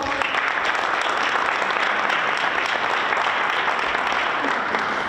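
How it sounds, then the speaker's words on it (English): An audience claps continuously, a dense, even wash of applause from a crowd that holds steady the whole time. "So let's give them a round of applause."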